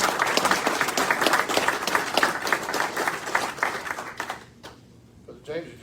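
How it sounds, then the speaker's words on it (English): Applause from an audience at a Masonic lodge installation in Waller County, Texas, greeting the sheriff's department chief: dense, steady clapping for about four seconds before it thins out and fades into quiet room noise. "Please give a warm round of appreciation."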